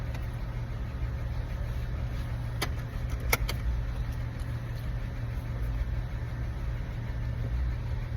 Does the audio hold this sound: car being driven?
yes